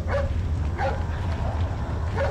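A dog in the game Resident Evil 4 gives several short barks and yips in quick succession, fairly close and loud over low background rumble.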